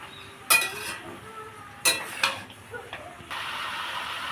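Chopped vegetables for banana flower ghonto with lentils go into a pan with spices: sharp utensil clinks and scrapes come first, then a steady, close sizzle as they are stirred, with a voice faintly talking.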